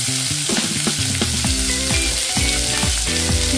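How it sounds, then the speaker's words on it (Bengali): Chopped onion frying in a pan for a chicken liver and gizzard kosha, sizzling steadily and loudly with repeated scraping and stirring strokes and no talking. "একটু লালচে করে এটা পেঁয়াজটা ফ্রাই করে নিতে হবে।"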